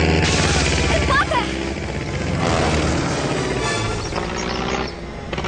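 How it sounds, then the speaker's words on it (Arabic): A propeller airplane in trouble in a Tarzan film drones loudly and continuously throughout, mixed with film soundtrack and a voice talking over it. "إنها طائرة، وأعتقد أنها في ورطة"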